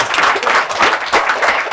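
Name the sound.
audience applauding in TV studio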